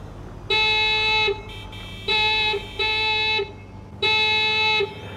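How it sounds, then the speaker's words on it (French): A scooter horn honks four times in short, even blasts of about a second each, loud and close, with a steady low rumble underneath. "j'entends le klaxon d'un scooter, ça doit être elle"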